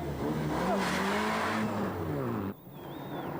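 A rally car is driven hard on a stage of the 1995 ELE Rally, its engine loud and close with shifting revs for about two and a half seconds before cutting abruptly to a quieter background.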